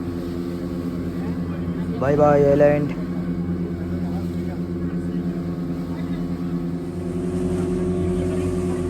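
A boat's engine drones steadily at night as it pulls away from an island across the sea. A voice speaks briefly over the low, even hum.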